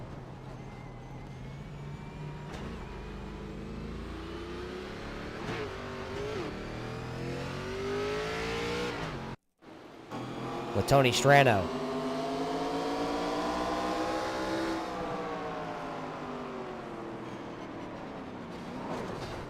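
Race cars in a local scrambler series roar around an oval racetrack, engines droning and revving through rising and falling pitch sweeps, with a brief near-silent gap and a close pass, loud and continuous beneath a commentator's voice.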